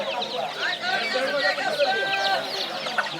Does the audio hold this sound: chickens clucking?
yes